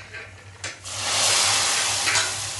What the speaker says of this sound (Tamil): தாளித்ததை குழம்புல போட்டு மூடி வச்சுடுங்க